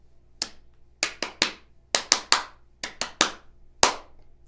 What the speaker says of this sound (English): It's far less awkward to clap your hands for the battery at the beginning of the ritual